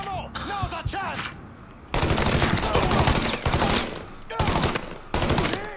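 Gunfire in Mafia III, a loud close firefight with dense bursts of shots broken by short pauses, with a voice talking between the volleys.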